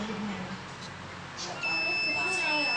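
A multimeter sounds a single sustained steady beep while its probes test an IGBT module, starting midway and continuing to the end over a noisy background.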